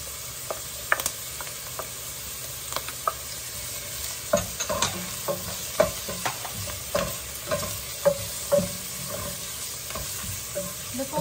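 Garlic sautés in a pan for a kare-kare dish, a low continuous sizzle broken by repeated scraping and tapping of a spatula as it is stirred, close and alone.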